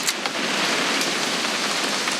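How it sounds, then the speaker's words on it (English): Rain falls steadily in the video game What Remains of Edith Finch, a loud, dense hiss of drops on surfaces with a few sharper splashes. "It's gonna rain the whole weekend, isn't it?"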